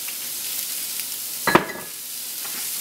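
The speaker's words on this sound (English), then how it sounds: "As those onions are heating up" Onions sizzle in a pan of bacon fat and olive oil, a steady close hiss broken by one brief clattering knock near the middle, with no talking.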